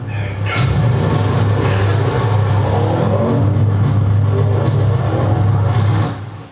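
A Land Rover hybrid car accelerates hard with its electric hybrid boost engaged, a loud, steady engine drone running nearly the whole time before cutting off near the end.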